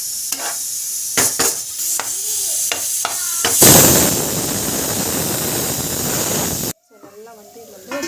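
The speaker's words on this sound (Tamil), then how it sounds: "பாயில் ஆகி இருக்குது." A healthy home-cooked dish boils in a pan with a loud, steady hissing bubble lasting a few seconds. A person talks before and after it.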